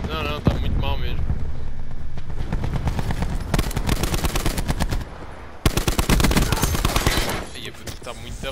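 Rapid bursts of automatic gunfire from a Galil rifle in a video game rattle continuously, with brief pauses between volleys, while a voice talks over the shooting.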